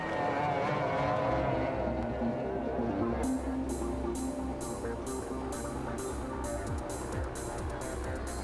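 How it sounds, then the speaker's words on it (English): Formula One powerboats, 17-foot inshore racing boats, roar past with a sustained high-pitched engine whine and rhythmic slapping pulses as the hulls bounce over water, all at a distance. "These are Formula One powerboats."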